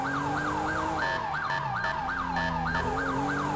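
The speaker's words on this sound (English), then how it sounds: "I'm going to rock the siren right now" A police car siren cycles in a fast yelp during a pursuit, loud and close, with the cruiser's engine rumbling underneath and no talk.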